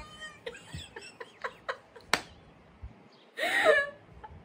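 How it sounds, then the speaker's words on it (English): A pet cat meows indoors, a few short, thin calls early on, then a louder drawn-out meow near the end, close to the listener over a quiet background. "That is my cat, Stitches."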